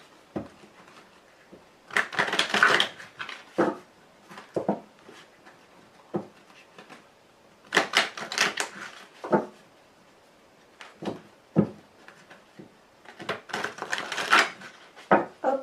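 A deck of tarot cards is shuffled and cut by hand, giving several bursts of crisp riffling and slapping. The bursts are separated by short quiet gaps and recorded up close.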